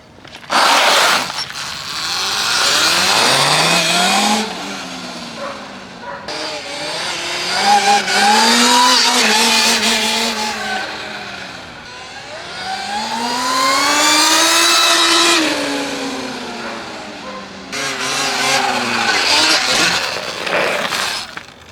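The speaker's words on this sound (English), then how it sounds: "we'll still do a big wide open throttle pull for you" A Surron electric bike with a chain drive makes several wide-open-throttle pulls. Each pull is a loud, close motor-and-chain whine that climbs in pitch and then falls away, and the pulls repeat in quick succession.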